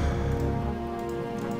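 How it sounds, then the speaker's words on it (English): Rain in the Project Zomboid video game, a steady dense hiss of falling drops that holds constant and fairly loud, with no voices. "Just me waiting for the fucking rain to go away."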